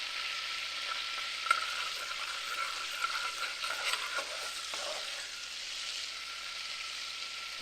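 Butter sizzling and foaming in a pan as it browns, a steady loud frying crackle with brief pops and stirring, heard alone and gradually settling quieter.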